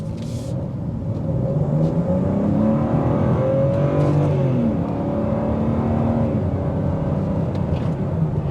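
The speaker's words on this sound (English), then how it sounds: "We have it in road mode with the active exhaust note off, so we can hear the difference" A 2025 BMW M4 Competition xDrive runs in road mode with its active exhaust note switched off. A steady, subdued engine drone and road rumble carry through the cabin, and the pitch rises and falls gently with throttle. No one speaks.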